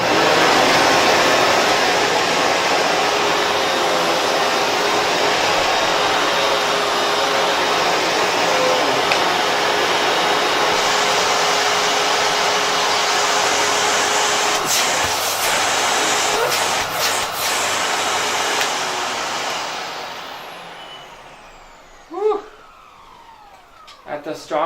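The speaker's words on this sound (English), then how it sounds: "I'm going to turn on the vacuum at the highest suction power just to demonstrate the noise level and how strong the suction is" A Hoover Hushtone 15 commercial vacuum runs at its highest suction, a steady, loud, broad whooshing roar held for about twenty seconds, with a few knocks near the end before it winds down and shuts off.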